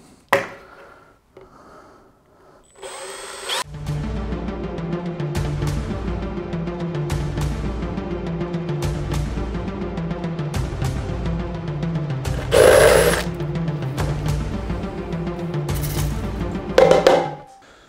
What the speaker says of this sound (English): So we're going to drill the holes.